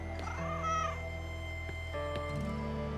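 A cat in the video game Broken Roads meows clearly over a steady hum of game music and ambience, with a second, softer meow later.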